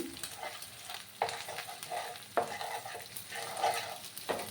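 Beaten egg scrambled and broken into bits in a hot pan for a puffed-rice (murmura) breakfast dish, with repeated scraping stirs of a utensil over a soft continuous sizzle and no voices.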